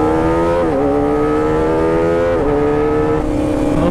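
Kawasaki Ninja ZX25R four-cylinder motorcycle revving loud and steady, high-pitched engine note dipping briefly at two quick-shifter upshifts before climbing again, no voices.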